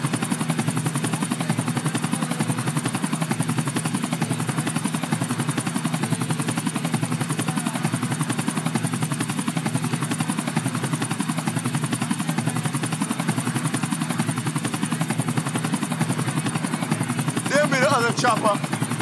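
A helicopter in the video game GTA 4 drones in a loud, constant rotor hum that holds steady throughout, with a brief voice near the end.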